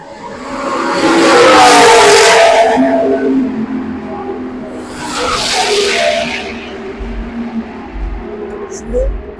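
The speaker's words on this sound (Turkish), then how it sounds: "Şimdi Formula 1 test sürüşleri başladı." Formula 1 cars on test runs through the streets of Baku pass close by in two loud roaring sweeps, the first longer and the second shorter, each rising and fading, with quieter traffic-like rumble between them.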